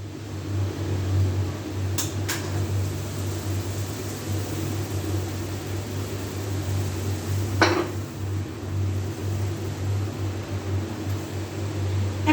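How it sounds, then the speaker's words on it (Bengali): A kadai pan set on a kitchen stove gives a couple of brief metallic clinks and a later knock as the burner is lit, over a constant low hum and background noise. "আমি চুলায় কড়াই বসাইছি, এখন চুলার জালটা দেব।"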